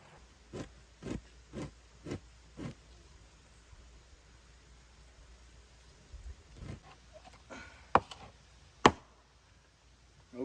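A long-bladed hewing axe dry-scrapes a bear hide in quiet surroundings: five evenly spaced rasping strokes, then a pause, then a few scattered scrapes and sharp ticks, all faint.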